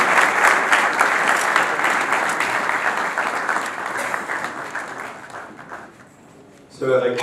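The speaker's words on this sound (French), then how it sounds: "le professeur Augustin Matakapo de Mapon, sous nos applaudissements bien nourris." An audience at a Protestant university in Congo applauds warmly for a professor, a sustained, dense clapping that stays loud for several seconds before tapering off, with a voice starting up near the end.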